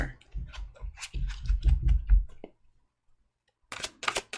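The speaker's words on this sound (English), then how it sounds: "One more shuffle." Tarot cards shuffled by hand in a quiet room, a burst of soft riffling and slapping card sounds, a brief silence, then a few more crisp card flicks near the microphone.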